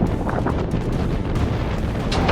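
Strong 27-knot wind while sailing past funneling mountains, a loud continuous roar of wind buffeting the microphone mixed with rushing water, unbroken for the whole stretch.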